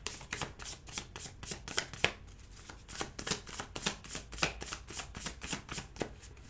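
Tarot cards shuffled rapidly by hand, a dense run of crisp riffling slaps in quick, fairly even rhythm, close and clear with no voices.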